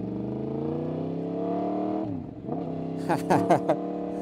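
A Kawasaki Z900 SE or Yamaha MT-10 SP naked motorcycle revs up close with a loud, steady, rising engine note that dips briefly, followed by several short, sharp bursts.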